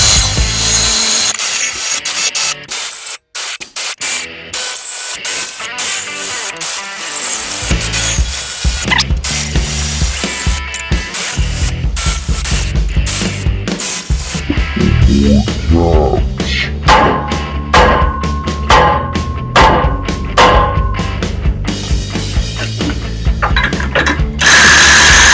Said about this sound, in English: Let's get our 17mm socket.